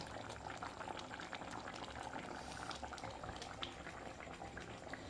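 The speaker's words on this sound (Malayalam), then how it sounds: "അങ്ങനെ നമ്മുടെ മീൻകറി നല്ലപോലെ തിളച്ച് വറ്റിക്കൊണ്ടിരിക്കുകയാണ്" Kerala-style kilimeen fish curry boils and reduces in a pan with faint, continuous close bubbling and popping.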